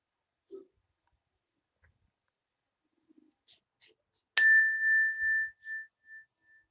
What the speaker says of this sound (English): In a few moments, I'll ring the bell.